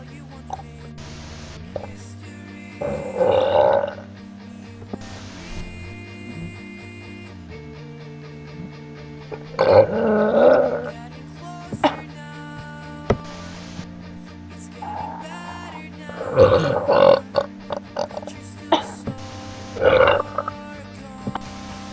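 A woman burps on swallowed air, several long, loud belches in separate bursts spread through the stretch, with quiet pauses between them.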